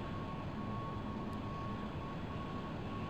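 A jet aircraft descending toward a carrier in the flight game Strike Fighters 2 produces a steady, unbroken engine drone with a constant whine, moderately quiet and without talk.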